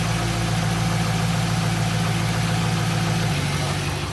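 A Pontiac car engine idling with a misfire on cylinders four and five hums with a low, uneven rumble close up; the tone drops and changes near the end.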